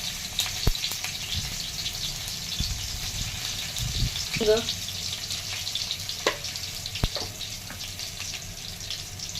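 Cumin seeds crackling in hot oil in a kadhai, with garlic going in: a steady soft sizzle with scattered sharp pops and a few utensil clicks, close by, and some talk at moments.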